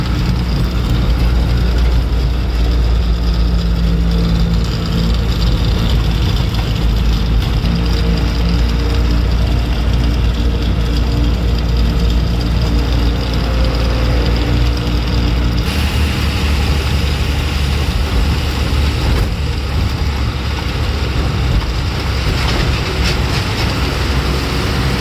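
A truck engine labours in a low, heavy drone as the loaded lorry crawls slowly uphill on a highway in Maharashtra. The rumble stays loud and continuous throughout, with a deeper bass surge in the latter part.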